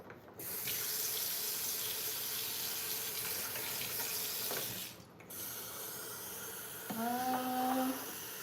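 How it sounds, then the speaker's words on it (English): Tap water runs steadily into a pot with a close, even hiss, briefly cut off and then resumed, with a short faint tonal clatter near the end. "So the water is on."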